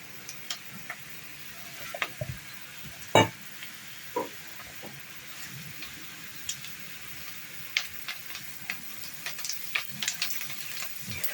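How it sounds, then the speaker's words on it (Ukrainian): Onion and carrot fry in a pan over a high gas flame, giving a faint, steady sizzle broken by scattered ticks and the scrape of stirring. "Обсмажуємо цибульку на великому вогні. Як тільки цибулька трішки підзолотилася, відправляємо туди морковку."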